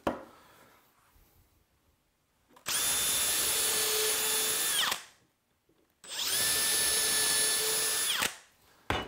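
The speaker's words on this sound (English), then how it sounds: "I was pretty sure it was gonna be easy to drive screws into, but I think it's super dried out." A power drill drives screws into dried-out wood while a cornhole board is being built, in two sustained whirring bursts of about two seconds each, close and loud, separated by quiet pauses.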